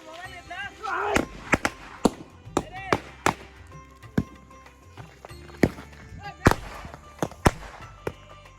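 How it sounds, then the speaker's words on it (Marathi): Firecrackers set off during a Ganpati immersion procession, a series of sharp, loud bangs popping irregularly over several seconds, with people talking and crowd noise between the blasts. "फटाके पास आपण इथे फटाके लावत आहोत जोरदार"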